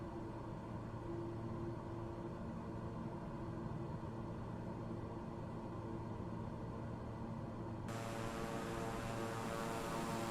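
Steady engine drone of a King Air 350 twin turboprop cruising in a flight simulator game, loud and continuous throughout, with no talking.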